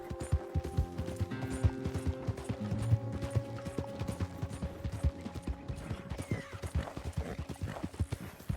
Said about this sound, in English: I think this is the best Arabian horse. The Rose Gray Bay.